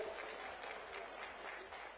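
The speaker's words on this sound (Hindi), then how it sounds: "ऐसे माननीय मुख्यमंत्री भगवंत मान जी का एक बार जोरदार तालियों के साथ प्यार से स्वागत कर दीजिए" A large crowd at an AAP political rally in Jind, Haryana claps in a continuous, fairly faint wash of applause, welcoming Punjab's Chief Minister Bhagwant Mann.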